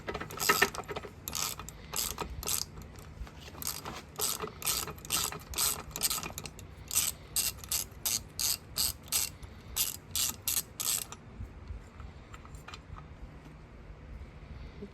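A socket wrench with a 5/16 socket ratchets nylon nuts on a Mercury outboard lower unit, giving a long run of rapid, close, evenly spaced clicks that stop near the end, leaving quiet.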